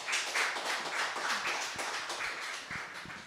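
Light audience applause, a scattering of claps at moderate distance, brief and fairly soft, fading toward the end.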